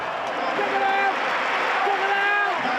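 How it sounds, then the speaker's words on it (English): Rugby crowd cheering a try at a Classic All Blacks match against Spain, a loud sustained roar with whistles and shouts across a packed stadium, no pauses. "the crowd, they're on their feet and they celebrate along with their team"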